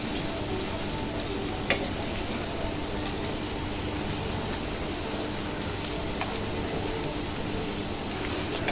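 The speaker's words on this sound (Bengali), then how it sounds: "এদিকে হচ্ছে এই যে বেগুনি চপগুলো ভেজে নিতেছি" Eggplant fritters (beguni) deep-frying in a pan of hot oil give a steady, dense sizzle and crackle, close and unbroken, with one or two faint clinks.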